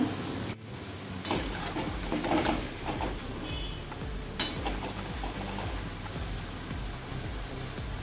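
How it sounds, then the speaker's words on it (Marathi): Vada batter deep-fries in hot oil, a dense, continuous crackling sizzle like steady rain, with a few louder bursts and a brief dip early on, and no talk. "छान गोल्डन ब्राऊन होईपर्यंत फ्राय करायचे आहेत आपल्याला"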